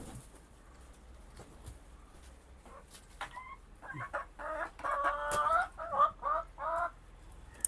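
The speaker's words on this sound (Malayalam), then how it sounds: "കുറച്ചൊക്കെ നമ്മൾ അങ്ങ് കോഴിക്ക് ഇതേപോലെ അങ്ങ് വെച്ച് കൊടുത്താൽ അവരവിടെ അങ്ങ് കൊത്തി കഴിച്ചോളും." Chickens cluck and call repeatedly while pecking at a banana stem set out for them as food, the bursts of clucking growing louder and busier partway through and staying close by.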